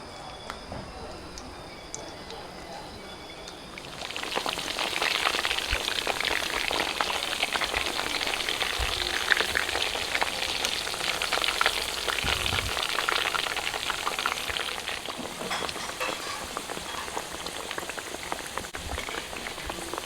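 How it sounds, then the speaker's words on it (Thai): Sun-dried pork fries gently over low heat, a soft continuous crackle and spatter that swells after a few seconds and then holds steady, close by and without talk. "ทอดไฟอ่อนๆสบายๆ"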